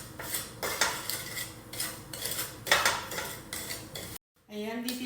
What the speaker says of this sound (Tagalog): Haluin ko lang siya hanggang mag-little brown siya.